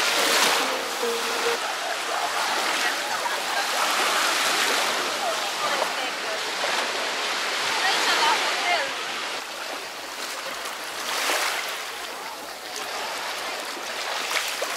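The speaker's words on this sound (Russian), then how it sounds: "Вот эта труба с водичкой закопанная и выходит просто в море." Mineral water flows out of a buried pipe into the sea on Bulgaria's Riviera resort coast, a steady rushing, splashing wash blended with surf, continuous and fairly loud, with occasional louder surges.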